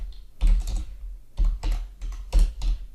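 Computer keyboard keys clatter in three quick bursts of typing while code is entered into an Excel VBA editor, close and clear with short pauses between bursts and no talking.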